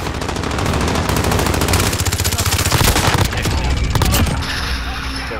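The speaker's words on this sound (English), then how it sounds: "They're just shooting RPGs." Rapid automatic gunfire and rocket-launcher blasts from a Call of Duty clan battle fill the whole stretch, loud and dense bursts with short pauses, under occasional player chatter.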